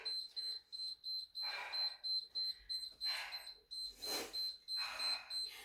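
A workout interval timer used during a strength-training session beeps in a rapid repeating pattern, sharp high tones pulsing on and off, with some bursts of breathy noise and faint background sounds between the beeps.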